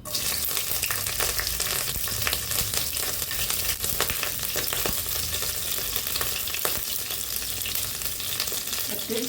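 Chopped green chillies sizzle and fry steadily in a pan for Bengali-style pasta, a dense continuous crackle with occasional stirring, close and fairly loud throughout with no talking.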